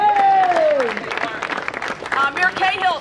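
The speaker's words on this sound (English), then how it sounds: "let's give them a really, really big round of applause" Crowd at a political endorsement event applauding local representatives, steady clapping under talk and crowd babble, fairly loud and close.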